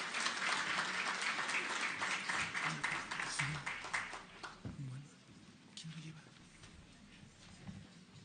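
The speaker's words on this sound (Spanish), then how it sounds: "un fuerte aplauso" Audience applause for doctors invited onto a panel, a room full of clapping that runs strong for several seconds, then thins out and fades as a few voices and scattered sounds take over.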